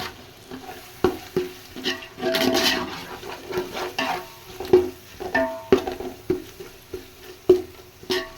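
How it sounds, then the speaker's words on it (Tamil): Onions and tomatoes sauté for mutton biryani, with repeated loud clanks and scrapes of a ladle against the pot over a bubbling sizzle, close up and without talk. "வெங்காயம் தக்காளி இது எல்லாமே நல்லா வந்துட்டு வதங்கி வரணும்"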